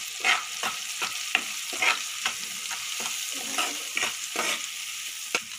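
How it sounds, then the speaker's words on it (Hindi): Masala spices of turmeric, coriander and salt stirred and roasted in a pan for jeera gobhi fried rice, a steady soft sizzle broken by repeated scraping spoon strokes in an uneven rhythm, close by with no talking. "अब हमारा मसाला मिक्स होकर भुन चुका है"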